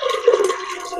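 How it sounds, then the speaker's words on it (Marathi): Water poured from a vessel into dal inside a pressure cooker, a short, gurgling, burbling splash lasting about a second, close and fairly loud. "अजून थोडं पाणी घालून घेते"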